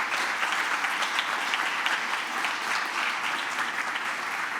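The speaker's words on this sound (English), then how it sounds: "So another big round of applause to all the people involved and for anybody I might have forgotten." Audience applause at a nursing and midwifery faculty festive gathering, with a full, sustained round of many hands clapping steadily and loudly throughout, no voices over it.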